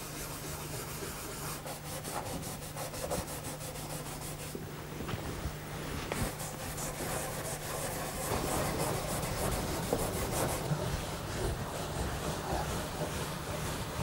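Fine 00 or 000 steel wool works paste wax into old furniture timber in a steady, close, soft rubbing rasp that continues with quick back-and-forth strokes, growing slightly busier toward the end, with no talking.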